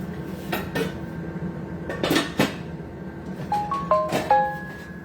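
Skillet and metal utensils clatter and clank while onions are being cooked, with scattered sharp knocks and scrapes, a couple of louder bursts and short ringing tones, close and without speech.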